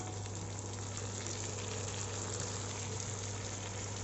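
Onions roasting in a pan for anchovy (dry fish) pulao give a steady, even sizzle and crackle that holds without a break from start to finish, with a low hum underneath and no voices.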